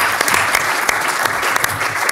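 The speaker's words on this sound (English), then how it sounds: "I think we can then applaud." Applause from a conference audience at an open research and curation event, a dense, steady wash of many hands clapping close by, sustained throughout with no voices.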